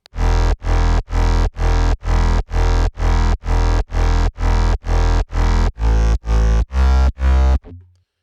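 A synthesized bass pulses in a steady run of about fourteen even, heavily compressed notes, deep sub tones under a buzzy mid layer, loud and alone.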